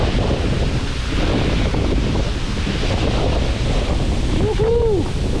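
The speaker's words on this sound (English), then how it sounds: "Khun Korn Waterfalls." Khun Korn Waterfall in Chiang Rai, Thailand roars as a steady, dense wash of falling water, loud and constant from start to finish, with a brief high whistle or call near the end.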